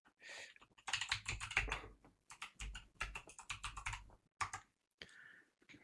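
Close, quick bursts of computer keyboard typing enter a folder name, with rapid clustered keystrokes and brief pauses between words.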